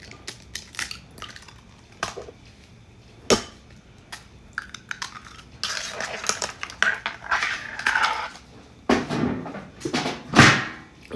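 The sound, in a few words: cracking three eggs into a bowl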